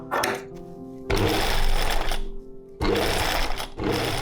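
A sewing machine stitching corset fabric and petticoat fabric in three close, loud runs of rapid mechanical whirring, separated by brief pauses.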